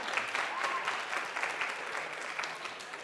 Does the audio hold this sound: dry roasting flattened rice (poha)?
no